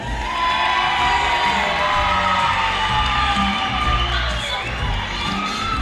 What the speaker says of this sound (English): give a nice round of applause right now for the parents of the bride, Robert and Deborah Peterlin